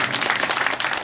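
Brief, loud burst of audience clapping during a Hindi religious katha gathering, dense and close.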